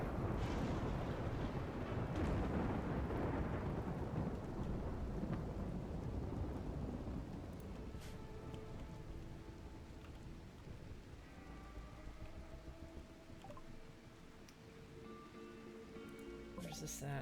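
Rain and thunder in the video game RimWorld: a steady wash of rainfall with deep rumbling thunder early on, easing slightly while soft game tones and clicks surface over the constant downpour.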